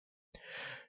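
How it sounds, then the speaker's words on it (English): A single sharp sneeze bursts out close and loud after silence, its breathy rush trailing off over about half a second. "Sorry, I had to sneeze."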